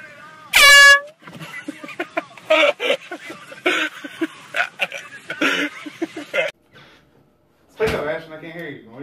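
A very loud air horn blasts once as a prank, a single abrupt burst near the start, then people talk and react loudly, with a second harsh noise burst near the end.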